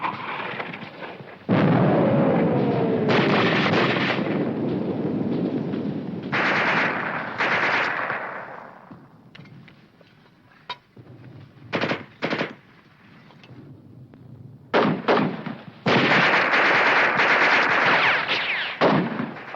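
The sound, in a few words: mortar and machine gun fire in a war film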